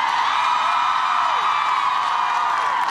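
A large rally crowd in Washington, D.C. roars and cheers in a continuous, dense wash of voices, steady and loud throughout with no single voice standing out.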